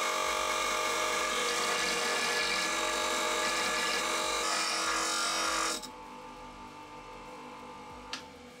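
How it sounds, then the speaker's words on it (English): An angle grinder cuts down metal washers to fit a car's dump pipe, a loud steady high-pitched whine for about six seconds before stopping abruptly, leaving quiet room tone with one brief click. "just grind it down to fit."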